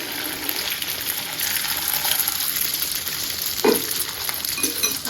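An egg frying in a pan gives a continuous soft sizzle and hiss, with one short clink of a utensil partway through and nobody speaking.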